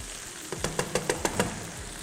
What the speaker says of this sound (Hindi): जब तक हमारी ये फ्राई हो रही है